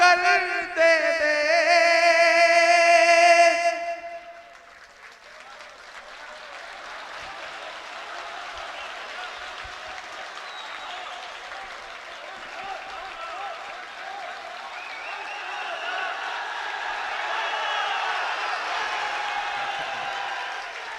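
Audience applause at a Hindi-Urdu poetry recitation, a dense roar of clapping that swells and carries on steadily for about twenty seconds, following a brief sung or chanted voice at the start.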